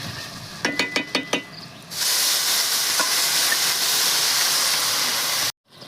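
A few rapid metallic taps on a wok give way to a loud, sustained hiss as water hits frying tomato chutney, steaming strongly for several seconds before stopping abruptly.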